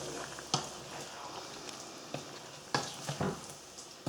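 Vegetables and Chinese noodles sizzle steadily in a hot pan as they are stirred together, with a constant frying hiss broken by a few sharp clacks and scrapes of the utensil.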